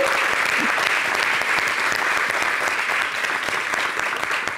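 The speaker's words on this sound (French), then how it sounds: "on ne peut que l'applaudir." A crowd applauding during a French-language Ivorian television show, dense sustained clapping that fills the whole stretch at an even, loud level without a break.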